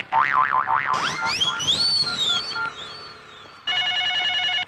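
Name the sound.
telephone ringing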